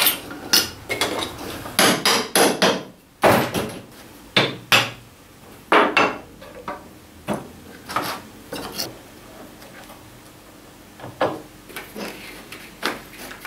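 A hammer taps a utility knife blade to cut through wooden furniture edge banding tape. The sharp knocks come in quick clusters, then turn sparser and softer toward the end, close and distinct against a quiet room.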